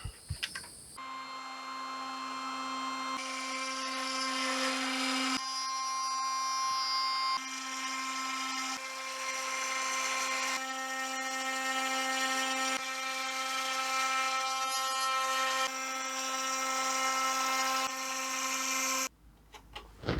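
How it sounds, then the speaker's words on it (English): A wood router shapes a dinghy rudder with a steady high-pitched whine that runs almost without break for most of the stretch, loud and close, with small shifts in tone as it cuts. "I could set up the the guide on the router and take this last bit off."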